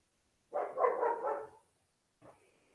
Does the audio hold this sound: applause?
no